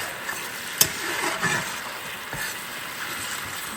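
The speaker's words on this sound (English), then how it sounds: "Put a little bit of beef broth on there. Get that going here. And that little simmer." Beef broth simmering in a pan, a soft steady sizzle and bubbling with a couple of faint utensil taps, close and quiet with no talk.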